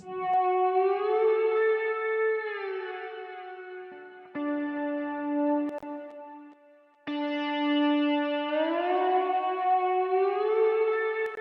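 A sustained, sliding electric guitar tone drenched in delay and reverb, pitch gliding up and down, cutting out briefly twice before swelling back loud.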